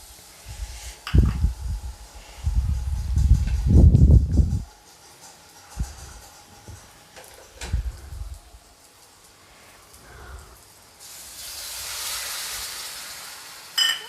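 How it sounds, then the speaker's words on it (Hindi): A fine ground paste of ginger, garlic and spices fried in a pan for bottle gourd kofta curry. A broad, steady sizzling hiss rises near the end, after a few louder thuds and clatters of cooking at close range. "अब मैं डाल दूँगी इन मसालों को।"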